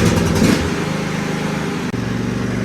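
John Deere riding mower engine on its first test drive after repairs, a steady close mid-pitched running hum with a brief rise at the start.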